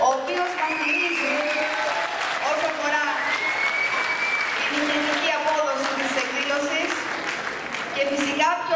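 An audience applauds the girls who danced at a tribute evening for Manos Hadjidakis, a sustained round of clapping with a voice and tonal sounds running over it throughout.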